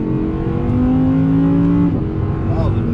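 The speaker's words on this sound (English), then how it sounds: "Oh, the noise, ladies and gentlemen, that V10." An Audi R8 V10 Plus with its V10 engine drones loudly and steadily up close, then rises sharply in pitch in a quick rev near the end.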